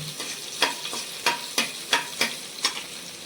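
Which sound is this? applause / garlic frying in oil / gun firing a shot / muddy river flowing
garlic frying in oil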